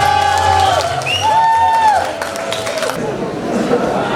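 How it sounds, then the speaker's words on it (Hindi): Crowd at a college freshers' event cheering and clapping, a loud sustained roar of applause with whoops and shouts over it, voices chattering and calling out throughout. "जोरदार तालियां, और इतनी जोरदार की तालियां रुकनी नहीं चाहिए"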